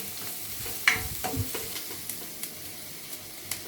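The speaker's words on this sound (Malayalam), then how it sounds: "ഉള്ളി ഒന്ന് വഴന്നു" Onions sautéing in a pan with a gentle background sizzle and a few sharp scrapes and taps of a spoon stirring them, close and quiet, no voices.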